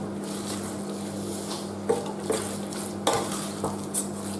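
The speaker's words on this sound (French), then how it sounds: "je vais mélanger" Vegetables (courgette, tomato, leek, potato) with onion and spices are stirred in a pan before the heat is on, giving a steady scraping and rustling with a few sharper clicks of a utensil against the pan, close and fairly quiet.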